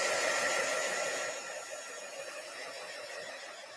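A hair dryer blows steadily on a craft project, a close, loud, continuous whoosh that eases slightly in strength after the first second and keeps running to the end, with no voices.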